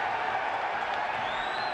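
A basketball crowd at a Champions League game between Baxi Manresa and Türk Telekom keeps up a steady, dense roar of noise throughout, with no clear breaks or peaks.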